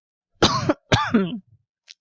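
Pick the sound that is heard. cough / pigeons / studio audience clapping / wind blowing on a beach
cough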